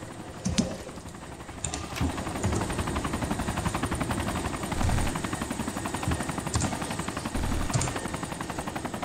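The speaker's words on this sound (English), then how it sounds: "Hang on, are you still in the chopper?" A helicopter in the Arma 2 military video game thrums steadily with a fast rotor chop, loud and close, with a few sharp clicks and knocks over it.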